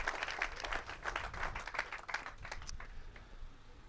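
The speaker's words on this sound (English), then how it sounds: "Can we give them a big round of applause?" A round of applause from a crowd at a canola farmers' day gathering, with steady dense clapping that starts loud and gradually thins and fades over a few seconds.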